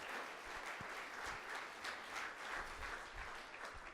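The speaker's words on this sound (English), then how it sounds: "All right, round of applause for Maritza." An audience at a pitch competition event claps after a presentation, a soft, somewhat distant patter of applause that swells and ebbs gently over a few seconds.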